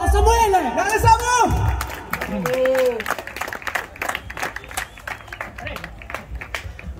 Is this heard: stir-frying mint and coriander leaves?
no